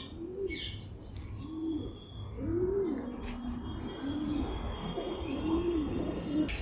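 Pigeons in a loft coo close by in a series of about six soft, rising-and-falling calls, with faint chirps and a low background hum.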